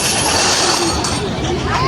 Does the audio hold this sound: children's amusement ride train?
yes